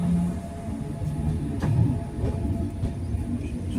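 A train rolls into New Jalpaiguri station at Siliguri, heard from inside with a steady low rumble, faint wheel clicks and a few sharp rail knocks.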